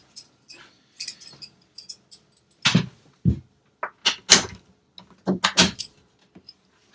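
The access flap above the door of a Mercedes Citaro II bus is worked open, giving a close series of sharp clicks, clunks and plastic knocks spaced irregularly, with quiet pauses between them.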